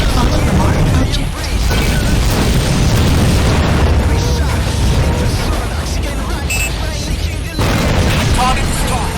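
Underwater combat in the video game AquaNox, with loud, continuous booming blasts and rumbling mechanical noise throughout as a target is destroyed, layered with a game voice speaking.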